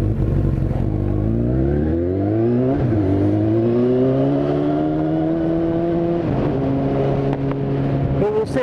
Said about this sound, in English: Let's get out of the way of this car.